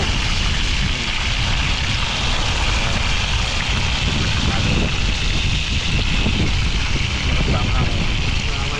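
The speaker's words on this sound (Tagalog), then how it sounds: "Ano, malakas po yung hangin dito, grabe." Strong wind blowing outdoors at a fishing spot, roaring continuously into the microphone with heavy low rumble and buffeting, loud and unbroken from start to end.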